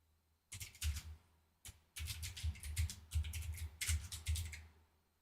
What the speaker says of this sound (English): Yeah, I'm just typing this in right here.